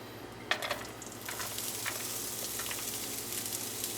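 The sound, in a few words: onion sizzling as it fries in oil in a pan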